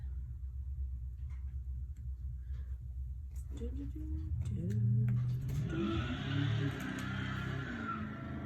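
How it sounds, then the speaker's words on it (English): A car doing a burnout on a city street in midtown, with a rising engine roar and tire squeal building partway through and carrying on to the end, heard from a distance indoors over a low rumble. "Did you hear that burn? Yes, people doing burnouts on a Sunday."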